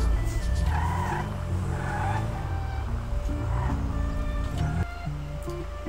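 An AE86 in GTA 5 accelerates with a loud, continuous engine drone whose pitch climbs and drops through gear changes, with tyre squeal layered over it throughout.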